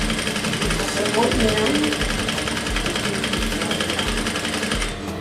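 A sewing machine stitches the middle and side panels of a blouse with a loud, steady, rapid mechanical whir close by, while a person speaks briefly over it.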